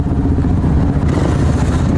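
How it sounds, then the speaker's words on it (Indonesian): Several motorcycles idling and rumbling as a group of riders starts their engines together, a loud, steady, close engine drone with clattery texture and no clear revving peaks. "Ya ini kita nunggu teman-teman nyalain motor ya."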